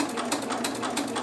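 A sewing machine edge-stitches the top of a fabric envelope case, a fast steady mechanical whir with regular rhythmic ticks, close and alone.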